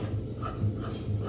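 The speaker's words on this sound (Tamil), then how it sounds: "எக்ஸ்ட்ரா இருக்கிறத கட் பண்ணி விட்டுறேன்" Scissors cut away extra canvas fabric from a skirt belt, making a close, steady rasping crunch of blades through stiff cloth with a few soft repeated snips.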